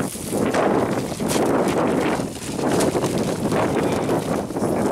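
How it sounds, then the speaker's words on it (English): Gusty wind buffets the microphone outdoors while a Star Wars X-Wing fighter kite flies, a loud rumbling rush that swells and eases in waves. "The wind is blowing everything"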